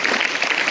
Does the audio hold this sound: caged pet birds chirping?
no